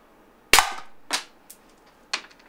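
A RAM Combat pistol fires mini breaker balls: three loud, snappy close-range shots roughly half a second apart, plus one fainter pop, each cracking sharply and dying away quickly.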